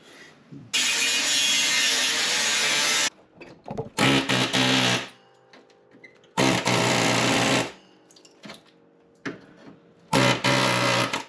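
A cordless power tool stripping rust from a Jeep TJ floor, in several loud harsh bursts of a few seconds each, separated by quieter pauses with small clanks.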